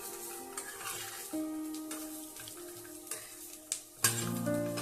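Ingredients for coconut chutney sizzle quietly in a pan while being stirred, with soft scraping and a few louder clinks of the spoon against the metal near the end, alone without talk.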